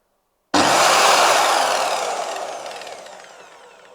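An Einhell TC CS 1250 circular saw switching on at full power with no soft start: an abrupt loud whine that jumps straight to speed, then a steady high-pitched spinning drone that slowly tapers, heard alone.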